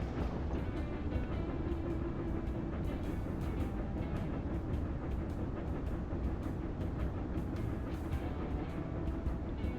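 Rumbling train moving in the railway management video game Railroad Corporation 2, a steady low-heavy mechanical drone with faint rhythmic clatter, continuous and alone.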